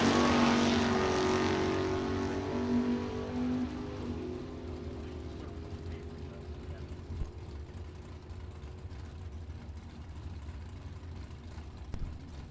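A Chevrolet Camaro and a Monte Carlo drag race down a Super Pro bracket strip, engines roaring loud at launch then fading into the distance as the cars pull away.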